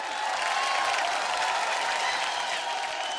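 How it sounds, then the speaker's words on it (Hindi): A crowd claps continuously at a TV show finale, a dense even patter of applause with faint cheering mixed in. "जोरदार तालियां"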